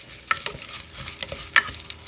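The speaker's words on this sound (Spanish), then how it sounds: "lo vamos a freír a que cambie el color de los fideos" Fideo noodles frying and being stirred in a pan for soup, with soft scraping strokes and light sizzling coming in short bursts, fairly close and without talk.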